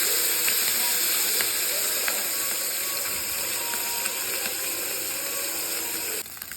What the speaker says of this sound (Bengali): এখানে ছোট মাছগুলো আমি হালকাভাবে ভেজে নেব